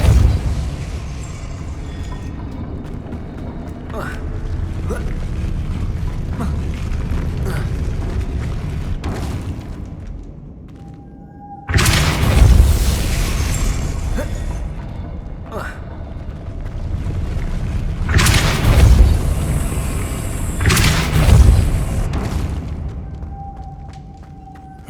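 The Depulso spell fires in Hogwarts Legacy, heavy booming blasts with deep thuds bursting out in a couple of loud clusters over a rumbling game soundscape, with a voice speaking at times.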